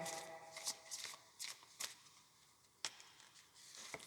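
A deck of cards being shuffled by hand, several crisp riffles and snaps spaced unevenly, close and soft with no talking.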